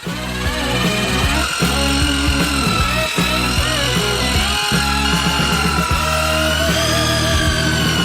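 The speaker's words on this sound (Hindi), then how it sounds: "इसे अच्छी तरह से मिलाने के लिए हम इस तरह के कंस्ट्रक्शन मिक्सर का उपयोग करेंगे।" A loud, steady mechanical whir of a heavy construction mixer churning thick cake batter continuously, with harmonic drone and occasional knocks and shifts in pitch.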